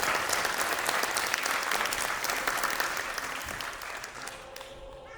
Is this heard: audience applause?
yes